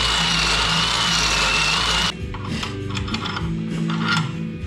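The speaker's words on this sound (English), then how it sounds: "I'm just gonna mill it out with a 1/2-inch bit" Milling machine cutting a metal shock bracket with a 1/2-inch bit, a loud steady whine with a high tone that cuts off partway, leaving a lower rumbling run with clattering.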